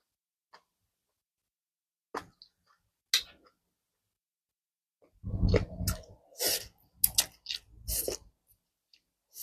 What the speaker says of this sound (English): my fried egg is very crunchy.